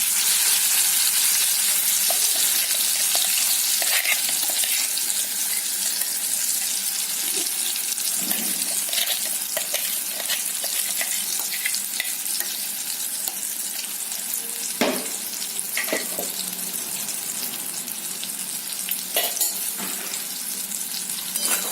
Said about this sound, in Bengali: এবার আমি ডাল বাটাটা কড়াইয়ে দিয়ে দিচ্ছি।